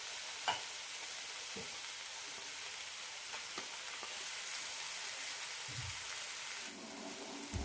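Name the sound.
stirring paste into the spice masala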